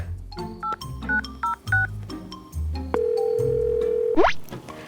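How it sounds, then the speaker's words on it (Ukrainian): A series of short electronic telephone keypad beeps, followed by a long steady dial tone that ends in a rising chirp, with faint background noise throughout, in a Peppa Pig cartoon. "Зараз я зателефоную до Віки."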